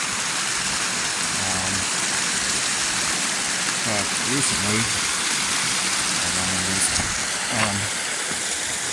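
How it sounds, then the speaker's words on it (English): A winter waterfall splashes in a steady, close, broadband rush that fills the whole stretch, while someone talks over it. "The waterfalls kind of splashing here."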